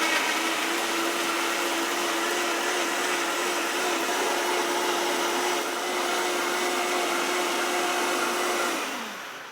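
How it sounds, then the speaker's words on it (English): A high-speed blender purees soup in a kitchen, a loud continuous whirring roar with a steady motor whine that holds for several seconds, then winds down at the end. "We're going to go ahead and blend this up right now."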